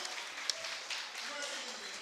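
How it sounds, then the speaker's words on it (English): A round of applause from an audience for a man, heard as a faint, steady wash of clapping that holds for about two seconds with no clear breaks. "give him a round of applause"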